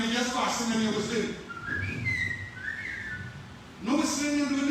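Whistling rings out inside a mosque, with short rising and falling melodic phrases alternating with a voice talking at the start and end.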